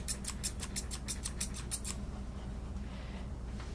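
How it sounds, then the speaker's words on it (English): Thinning shears cut a dog's fur along the edge of its ear with about ten quick, rhythmic snips, close and crisp, before stopping and leaving a faint room hum. "You get your thinning shears. We're going to go along this line right here, along the edge of the ear."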